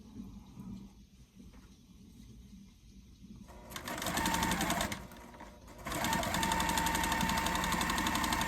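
A sewing machine stitches a mini quilt wall hanging, quiet handling at first, then a fast steady mechanical whir that runs, pauses briefly, and resumes loud and close.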